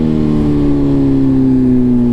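A BMW S1000RR sport bike engine revs hard in second gear, a loud close high-pitched whine whose tone slowly drops across the stretch, continuous and with no voices.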